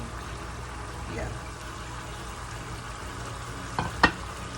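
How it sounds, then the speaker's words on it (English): Vegetables for chow mein fry in a pan, a steady broadband sizzle running under the whole stretch, ending with a couple of sharp utensil scrapes or knocks near the close. "Then I will start frying up the vegetables to go in there."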